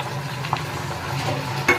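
Curry being stirred in a frying pan, with a low steady sizzle and a few soft scrapes of a spoon against the pan, all close by and fairly quiet.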